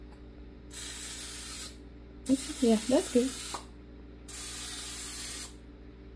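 Three sustained bursts of cooking oil spray hiss from a can, close and fairly loud, separated by short pauses, with a brief spoken remark between the first and second bursts.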